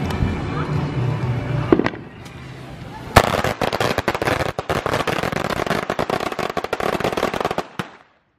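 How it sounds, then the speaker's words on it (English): A long string of Chinese firecrackers crackles and pops in rapid, dense bursts after a sharp bang, loud and close, then stops abruptly. "Them firecrackers is loud"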